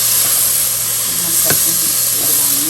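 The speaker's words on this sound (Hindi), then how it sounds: "तो मैं इसको मिक्स करने जा रही हूँ।" Brain fry seasoned with garam masala and salt is stirred in a pan, a steady close sizzle with scraping spoon strokes and a single sharp clatter partway through.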